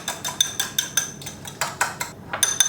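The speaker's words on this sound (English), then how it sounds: "Now I'm going to go ahead and whisk my egg separately" Rapid, rhythmic clinking of a whisk beating an egg in a bowl, bright metallic taps repeating about four times a second, close and alone.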